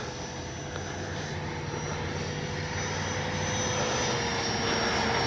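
A FlyFans L-39 camo RC model jet on its landing approach, a steady high ducted-fan whine and rush that holds constant and swells slightly, with wind noise over it.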